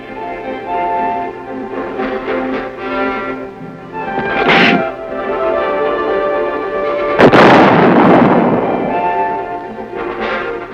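An artillery gun fires during weapons testing at Aberdeen Proving Ground, producing a heavy close blast with a long rumbling decay, preceded by a smaller report, over a steady droning background.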